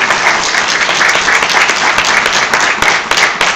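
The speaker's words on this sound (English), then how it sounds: "I think we all need to give the tellers a big round of applause for how good they did" An audience gives loud, sustained applause for storytellers at a live storytelling event, thick, continuous clapping from many hands with no break.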